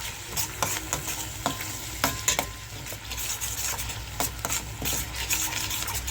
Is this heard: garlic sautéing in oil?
yes